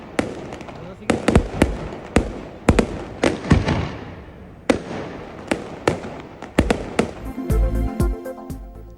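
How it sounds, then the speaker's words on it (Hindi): New Year fireworks burst in heavy snowfall at a hill resort, a rapid irregular series of sharp loud bangs and crackles with echoing tails, ending in a dense crackling cluster. "शदीद बर्फबारी में आतिशबाजी का शानदार मुजाहिरा।"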